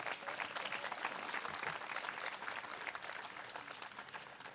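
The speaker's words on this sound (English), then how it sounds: "So give her another applause," Outdoor crowd applause at a Memorial Day service, a fairly faint, sustained patter of many people clapping that stays even for several seconds.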